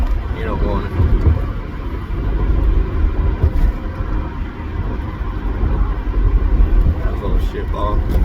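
An Acura CL Type S growls in a ride-along, its engine giving a loud, continuous low rumble with road noise that swells and eases throughout, with no voices.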